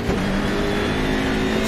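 A BMW M6 GT3 race car engine in the Assetto Corsa Competizione sim racing game at Autodromo Enzo, a steady loud drone held at high revs for under two seconds, no voices.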